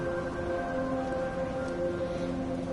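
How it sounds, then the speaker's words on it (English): Steady rain at night in the video game Dishonored 2 hisses in the background under sustained musical tones, a soft continuous patter with no voices. "And it's started to rain as well."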